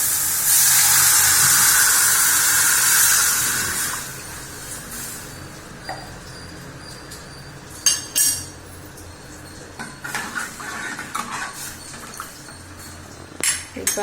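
A pot of spinach and tomato soup boiling in a kitchen, a loud steady hiss at first that fades into quieter bubbling broken by a few clinks of utensils against the pot.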